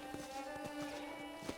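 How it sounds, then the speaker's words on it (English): Horse hooves clip-clopping at a walk in the video game Red Dead Redemption, a quick faint series of regular hoof thuds over a soft steady background hum. "Okay, let's see if you can still ride a horse."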